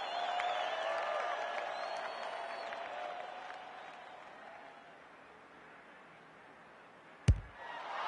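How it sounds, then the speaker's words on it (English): A women's football crowd applauds and cheers in a broad, distant wash that gradually fades, ending with a sharp thump near the close. "The crowd noise tells you all you need to know"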